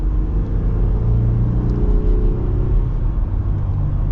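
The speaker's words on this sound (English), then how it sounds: "don't underestimate this 8-speed. It's nice just with the smooth, quick gear shifts." A 2025 Jeep Gladiator with an 8-speed automatic transmission is driving, its steady, close engine and road rumble swelling slightly as it moves through smooth gear shifts, with no talking.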